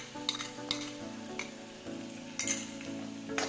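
Browned onion and crushed green chilli sizzle steadily in a pan, with a spoon scraping and stirring every half second or so, close and fairly quiet.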